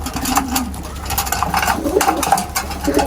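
A baştankara pigeon coos on a roof, soft repeated throaty calls rising and falling in close range, with light patter and rustling around them.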